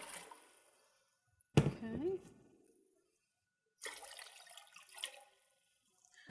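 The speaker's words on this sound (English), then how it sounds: "I'm going to pour 12 cups of water into my slow cooker." Twelve cups of water poured into a slow cooker for cooking pinto beans, a brief rushing splash followed by a longer steady pour, with a short spoken word between.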